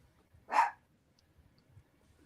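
A single dog bark rings out indoors, one short sharp yelp standing alone against a quiet room.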